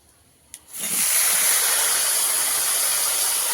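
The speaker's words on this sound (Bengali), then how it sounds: "এটা লম্বা লম্বা করে কেটে নিয়েছি পেঁপেটা এবার তেলে দিয়ে দেব" Long strips of papaya hit hot fish-frying oil tempered with chopped onion, a brief clink followed by a sudden loud, sustained sizzling hiss that stays steady and close.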